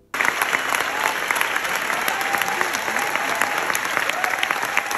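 Sustained applause from a standing audience at The Whale's world premiere at the Venice International Film Festival. The dense clapping starts abruptly and keeps on steadily and loudly throughout.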